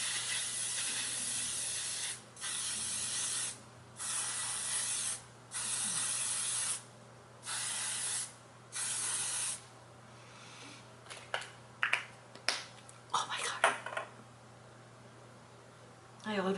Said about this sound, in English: I'm gonna go ahead and lock everything in place with L'Oreal.